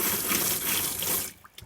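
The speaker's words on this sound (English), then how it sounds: "you should be able to draw water straight through on your cold water" Cold water gushing steadily from a tap inside a Trigano Tribute caravan, a broad close splashing rush that stops abruptly near the end, leaving a few faint drips and clicks.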